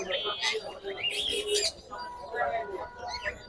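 Cockatiels at the Mirpur 1 bird market give a few shrill chirps and squawks at close range, mixed with nearby talk and market bustle.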